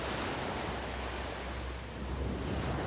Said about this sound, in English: the wind's blowing pretty hard from that direction